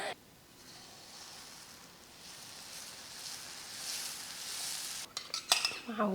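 Adai dosa crisping on a hot pan gives a steady, soft, hissing sizzle that swells slightly midway, followed near the end by a few sharp metallic clinks and scrapes of a utensil.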